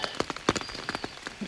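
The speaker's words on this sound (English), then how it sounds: "That's the sound of rain falling on my tent." Rain pattering on a tent during a cold, wet hike, a quick scatter of close, sharp drops tapping the fabric.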